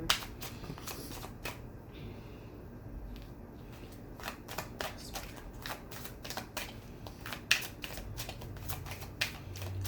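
A deck of tarot cards is shuffled up close, with dense runs of crisp flicking clicks that come in bursts and then ease off, steady and fairly quiet, with no speech.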